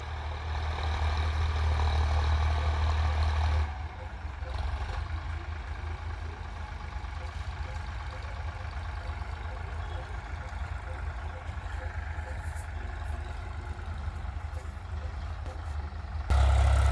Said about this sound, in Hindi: ये फोर्ड सुंदर लग रहा खेत में चलता हुआ।